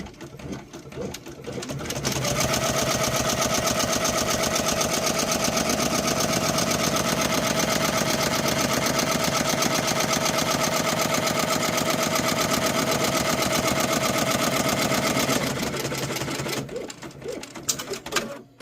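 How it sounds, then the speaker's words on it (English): An embroidery machine runs steadily, stitching a sublimation patch with a fast, continuous mechanical whir that starts after a brief pause and keeps going evenly until it stops near the end. "I'm gonna go ahead and start my machine, and we'll see the first stitch go down."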